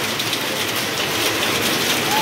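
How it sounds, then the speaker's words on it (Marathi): Hail falls with heavy rain in a village, a dense steady hiss and patter of stones and drops striking surfaces nearby, continuous and loud for the whole moment. "कसल्या गारा पडतायत."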